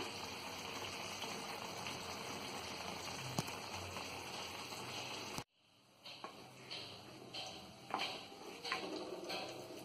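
Chicken biryani rice with chicken simmers in a covered pot. A dense, even hiss gives way after a sharp cut to quieter, scattered bubbling and sputtering.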